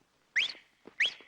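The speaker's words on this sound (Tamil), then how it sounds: "என்ன இனிமையான விசில்." A person whistles to call someone, two short rising whistles about half a second apart, clear and fairly near, with faint background noise between them.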